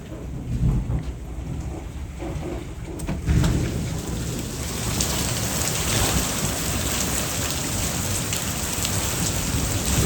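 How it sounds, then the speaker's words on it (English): A storm pours steady heavy rain that drums on surfaces, with a thunder crack early on and a low rumble underneath, a dense constant roar with no voices. "You guys want to see the storm?"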